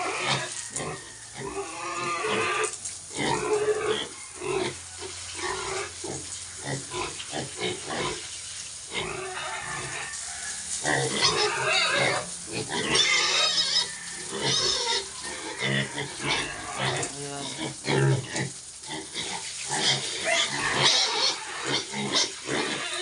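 Sixty-day-old piglets grunting and oinking at feeding time on a pig farm, a steady jumble of close grunts and squeals running throughout, with a person's voice occasionally heard among them.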